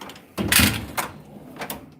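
Drawers in a tool chest are pulled open, with a loud scraping slide followed by two softer knocks and rattles, close by and without speech.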